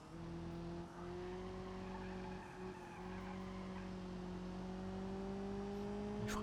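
A heavy vehicle in BeamNG.drive brakes hard with a long, steady tire squeal over a droning engine, loud and continuous with no talk.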